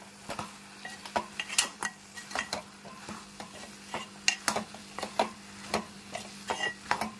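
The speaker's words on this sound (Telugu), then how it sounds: "ఇప్పుడు మనము ఇలా కలిపేస్తాము" Okra being stirred and mixed in a pan with a spoon, repeated scraping and clinking strokes in an uneven rhythm over a faint sizzle, close and clear.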